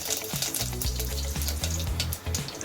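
Curry leaves crackle in hot oil in a continuous close sizzle. Quick popping bursts break through it and the low hum of a stove sits underneath, with no voices.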